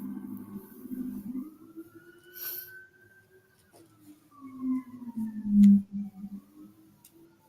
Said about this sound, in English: I'm hearing an ambulance in the background